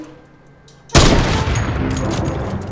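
Sudden loud burst of gunfire in the Fortnite battle royale video game, a sharp boom followed by a dense, sustained volley of rapid shots that keeps going to the end.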